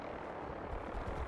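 Vertibird aircraft from Fallout 4 flying, a steady low rumbling drone with broadband whirring, continuous and fairly close throughout.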